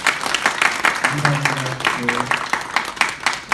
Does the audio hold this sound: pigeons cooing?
no